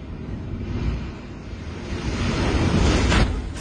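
Giant storm waves at Saint Malo during storm Pierrick roar loudly and continuously, with heavy surf and wind buffeting the microphone, swelling toward the end; no voices.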